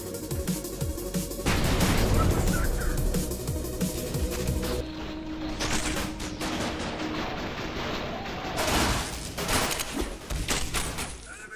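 Bursts of gunfire from firearms in Ninja Gaiden 4, a rapid fusillade of loud shots with heavy thuds mixed in, followed by scattered single reports and impacts amid game effects.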